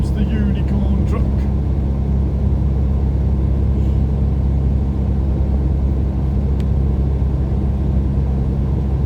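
A truck passes on a highway, heard from inside a moving vehicle as a loud, steady low rumble of engine and road noise that swells slightly, with faint brief clicks early on.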